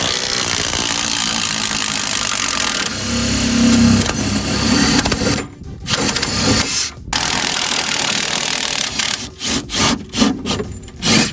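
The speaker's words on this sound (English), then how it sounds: "The impact drill saved the day." Impact drill working a seized nut and bolt free from the rear hub of a Subaru Impreza WRX during a wheel bearing job, loud rattling bursts with short gaps and abrupt stops, close up.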